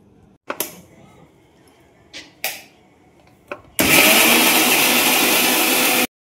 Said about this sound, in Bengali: মা এদিকে মিক্সিতে নারকেলটা ভালো করে বেটে দিল